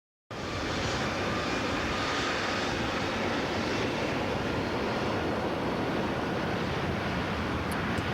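United DC-10 airliner engine playing in an aviation recording: a loud, continuous jet roar begins abruptly and holds steady as a broad rushing drone with no voices.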